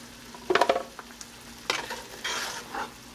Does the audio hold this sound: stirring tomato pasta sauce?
yes